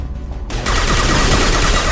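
Video game gunfire in Mass Effect 2 breaks out after a brief quieter lead-in, becoming a dense, loud, continuous burst of rapid shots that fills the rest of the moment without any speech.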